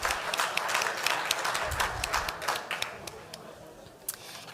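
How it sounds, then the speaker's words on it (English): Audience applause at an economic forecast summit in the San Gabriel Valley, a steady dense patter of many hands clapping that runs throughout at moderate loudness. "We just want to give them a round of applause."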